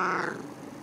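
A cat gives a single short, close meow that trails off into a low, growly tail.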